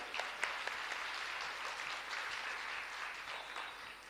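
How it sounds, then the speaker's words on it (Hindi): Applause from an audience at a Bhagwat Katha religious gathering, steady dense clapping sustained throughout at moderate distance, with no talk over it. "उनके लिए भी जोरदार तालियां"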